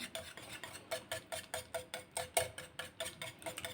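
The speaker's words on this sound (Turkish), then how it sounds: "Tereyağımı tamamen eriyene kadar şöyle karıştıracağım." A utensil stirs butter melting in a pan in a home kitchen, giving about a dozen quick, even scraping strokes in a steady rhythm, close and fairly quiet, with no talking.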